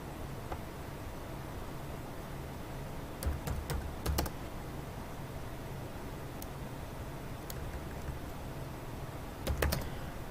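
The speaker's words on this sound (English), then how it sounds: "Just a little bit more typing" Soft keystrokes on a computer keyboard come in a few short clusters over a quiet hiss, faint and intermittent, with no talking.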